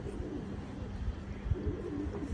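Giribaz pigeons of a flying line cooing in a loft, low throaty murmurs blending into a steady soft background for a couple of seconds, with no talking.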